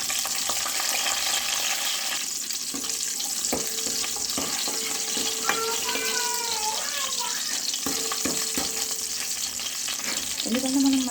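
Green chilies sizzle and fry in a pan for makhana curry, with a spoon scraping and stirring at intervals over a constant hiss, close and steady.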